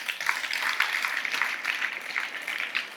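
Schoolchildren clapping for a student at a school Independence Day event, a continuous patter of scattered hand claps at moderate loudness with no speech over it.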